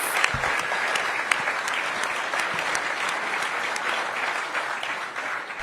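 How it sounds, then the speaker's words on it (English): A crowd applauds steadily at a press conference for the NFL commissioner, loud and sustained clapping filling the room with no voices over it. "Give the commissioner a big round of applause."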